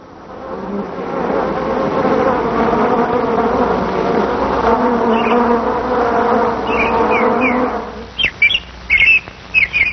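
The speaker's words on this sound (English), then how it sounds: "many bees leave the hive to see what is wrong" A dense, steady swarm of honeybees leaving a hive buzzes loudly for several seconds, then cuts off as a few short bird chirps take over.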